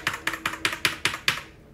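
Keys clack on a computer keyboard during a Baldur's Gate 3 gaming session, seven sharp, evenly spaced clicks close to the microphone before falling quiet.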